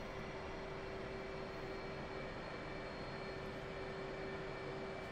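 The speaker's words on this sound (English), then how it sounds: "Seems to take ages to taxi anyway. I'm on runway." Aircraft engine drone in a flight video game as the plane taxis to the runway, a constant loud whine with a steady tone and no break, no talk over it.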